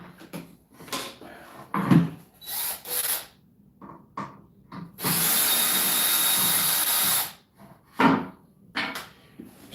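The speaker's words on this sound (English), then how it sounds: "So I'm just removing the screws from here to get it ready and get it set up." Power drill backing screws out of a wooden shelf while a projector screen is set up, several short whirring bursts with one longer sustained run in the middle, close by with scraping handling noises between.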